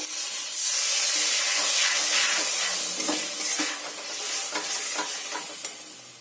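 A little water hits a frying spice masala with tomato sauce and sets off a loud, hissing sizzle. Stirring scrapes through it as the hiss slowly eases, close up, with no talking.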